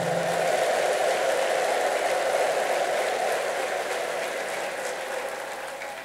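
Loud, sustained applause from a large church congregation at a gospel preaching event in Bahir Dar, Ethiopia, mixed with high trilling ululation, holding steady for several seconds before easing slightly at the end.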